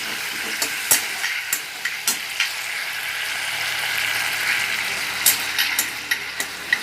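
Spice paste sautés in a wok for a sour fish curry with spinach, a continuous hissing sizzle broken by sharp scraping and tapping strokes of a spatula, close and fairly loud.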